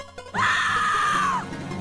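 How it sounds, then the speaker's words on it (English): A sustained, wavering high-pitched scream from Blaster Master Zero, rising suddenly and holding for about a second before cutting off, loud and up front over a low game backdrop. "Scream."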